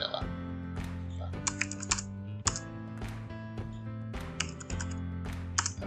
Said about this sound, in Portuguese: Se eu digitar aqui qualquer coisa